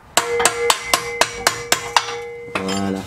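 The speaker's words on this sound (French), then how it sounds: "Bon, il va falloir que je sorte le marteau," Hammer blows on the old exhaust pipe of a Peugeot 206, about eight sharp metallic strikes in a steady rhythm, loud and close, ending with a ringing, rattling clang.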